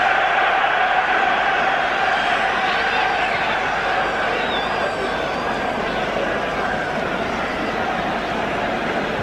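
Large football stadium crowd of German fans at the 1977 European Cup Final, a broad steady roar and murmur with distant shouts, continuous and fairly loud throughout.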